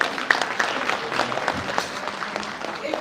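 Audience applause at a book launch for a councillor and deputy mayor, a steady wash of clapping from a seated crowd at moderate level that runs through the moment with no pause.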